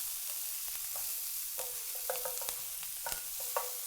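Chopped onions frying and being stirred in a hot pan for a pan sauce, with a steady soft sizzle broken by repeated scraping and clinking stir strokes, close up and without talk.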